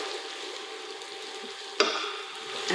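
Onion softening in a hot pan while cooking hilsa, a steady close sizzle and fry hiss with one brief stir or scrape partway through, no talk.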